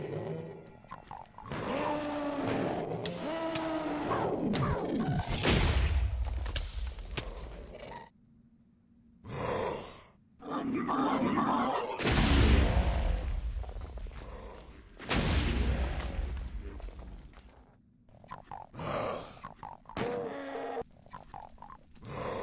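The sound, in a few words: Doom mod monsters shooting firebolts in Minecraft video game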